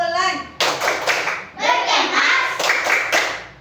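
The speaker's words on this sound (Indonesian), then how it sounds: "Ulang kan? Tepuk pulang." Children in a classroom perform a rhythmic going-home clap routine, sharp unison hand claps in quick patterned bursts mixed with young voices chanting along.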